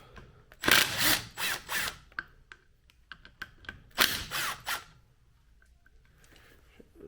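A power tool works on the clutch of a seized 2004 Honda CRF 80 dirt bike, its close, loud bursts whirring in two clusters of several short pulses, with quieter clicks and handling noises in between.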